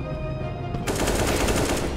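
Rapid automatic gunfire from the video game Counter-Strike: Global Offensive, a dense, loud burst of shots that starts partway in and continues steadily to the end over a noisy background.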